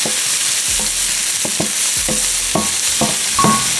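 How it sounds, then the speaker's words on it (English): Shallots sizzle in a pan as they cook down for a creamy lobster pasta, a steady frying hiss broken by repeated spoon stirs and scrapes, close and without talk. "I like to cook my shallots down a little bit before I add any garlic."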